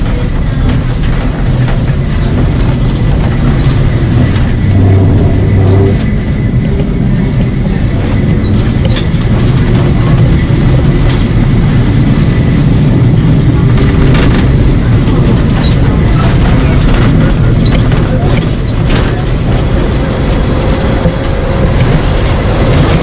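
An old Lisbon tram runs along its rails, a loud, continuous rumbling roar with rattling and clicking throughout, heard from inside the car, with faint voices now and then.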